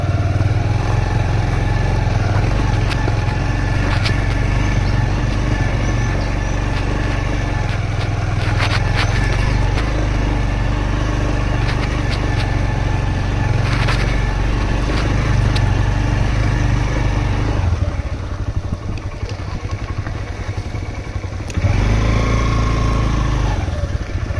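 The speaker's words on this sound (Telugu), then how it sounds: "గేర్ తప్పించి ఎక్కట్లేదు బండి." A motorcycle climbs a monsoon-season ghat road toward Lambasingi in low gear, its engine throbbing loud and close with a steady labouring drone, while wind buffets and small surges come and go.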